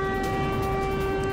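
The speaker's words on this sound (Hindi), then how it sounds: "ये देखिए यहां पर किस तरह से एयर सायरन गूंज रहे हैं, ये सुनिए जरा।" Air raid sirens wailing in Iran, a steady, loud, unbroken tone held through the short stretch with no talk.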